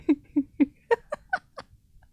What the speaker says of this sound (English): Do you guys hear the meow meow?